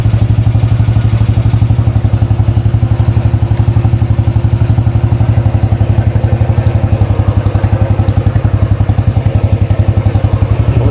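A motorcycle motor runs for the first time after charging, making an odd, unidentified noise. A loud, close, steady idle throbs with fast regular pulses for the full length, with no talking.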